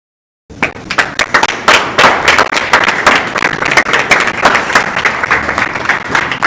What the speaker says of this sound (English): Let's make a resounding applause.